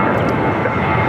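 At LAX, an airliner rolls for takeoff on runway 25 right, a steady, broad engine roar that stays loud and constant throughout, with no talk over it.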